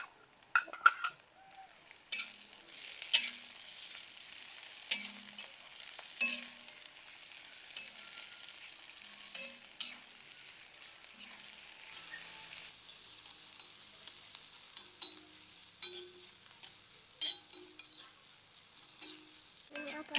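Shallots, onion and bird's eye chilies stir-fry quietly in a pan, a soft low sizzle broken by scattered spatula clinks and scrapes against the metal.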